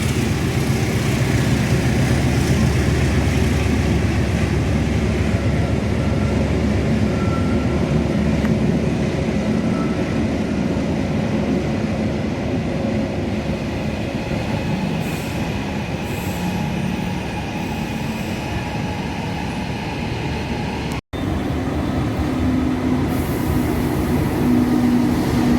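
Argo Bromo Anggrek passenger train rolling through Jatinegara station in the morning, a steady loud rumble of wagons and wheels on rail with occasional squeals, continuous for the whole stretch with one brief dropout.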